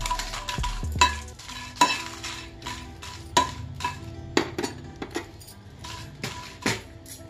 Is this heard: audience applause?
no